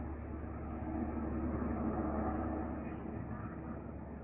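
Firefighting aircraft carrying a water bucket passes overhead during a wildfire, a steady loud broadband roar with low rumble sustained throughout, no voices.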